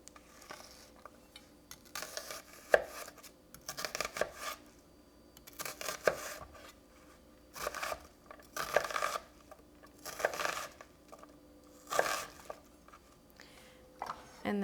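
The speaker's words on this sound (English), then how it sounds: "you're going to just chop your onions to about a 1-inch square size" Knife chopping onions into roughly 1-inch squares on a cutting board, steady bursts of close, crisp cuts repeating in clusters with brief pauses between them.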